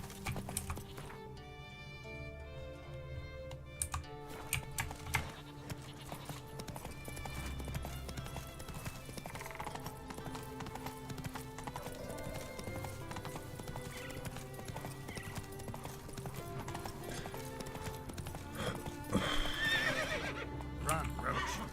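Roach the horse gallops in a video game, steady clip-clop hoofbeats running throughout with occasional neighs and whinnies over game music and background sounds.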